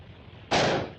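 A single sharp gunshot fired at a rope bursts out halfway through after near silence, loud and close, its blast ringing and slowly fading.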